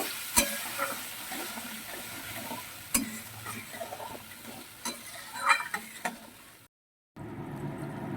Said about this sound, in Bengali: আর দিয়ে দেবো একটুখানি জল যাতে মশলাটা পুড়ে না যায় এবার আমি কষিয়ে নেব